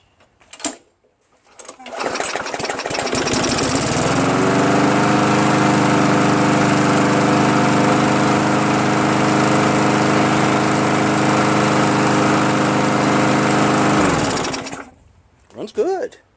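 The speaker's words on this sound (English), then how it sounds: "Once the engine started running, things started flowing." A Murray push lawn mower with a 4.5 HP Briggs engine starts and runs steadily, its loud buzzing drone holding level for about twelve seconds before cutting off, with short bursts of noise and a voice at either end.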